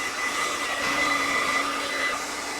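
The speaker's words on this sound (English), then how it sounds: "Let me get my hair dryer." A hair dryer blows steadily for a few seconds, a close, even whooshing hum with a faint whine, aimed at drying calligraphy ink on a craft project; no talking.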